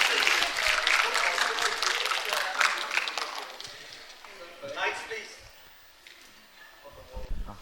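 An audience at a panel show applauding, a dense burst of clapping that thins and fades over several seconds, with a few scattered claps at the end.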